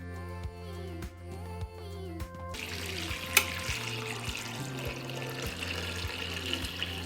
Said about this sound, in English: Then I will pour hot water into the pot.